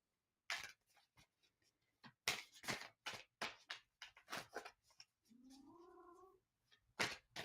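A cat meows once with a drawn-out, rising and falling call, close to the microphone and faint, set among sparse ticks and taps in a quiet room.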